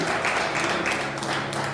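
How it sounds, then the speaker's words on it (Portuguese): A church congregation applauding, a dense steady patter of many hands clapping at close to moderate distance for a brief moment. "Fica de pé e dá uma salva de palmas para esse Deus"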